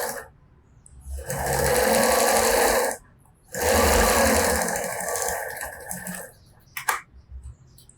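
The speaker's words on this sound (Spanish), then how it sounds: "Vamos a coser." A sewing machine stitches fabric for a decorative cushion made from two fabric circles. It runs loud and close in two sustained bursts of about two seconds each, with a short pause between them, then stops with a few faint handling clicks.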